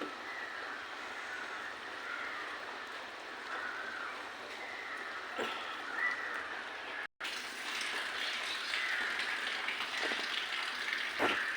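Curry leaves dropped into a hot cooking dish, giving a steady sizzle and hiss that gets louder and brighter after a brief break partway through.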